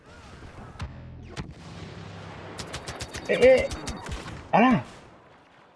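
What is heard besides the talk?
deployed ground machine gun firing, Star Wars Battlefront video game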